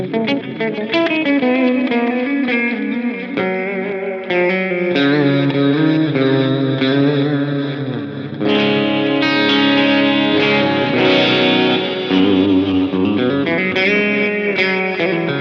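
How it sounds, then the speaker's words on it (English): A Flamma effects pedal set to its reverse delay and swell reverb mode, routed through a POD GO effects loop: loud, sustained guitar chords swelling and smearing into washy, reversed repeats that keep building for about fifteen seconds, with no talking. "We'll do mode 1, which is the reverse delay and swell reverb."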